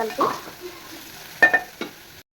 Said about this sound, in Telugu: బీరకాయలు వేసుకున్న తర్వాత కలుపుకోవాలన్నమాట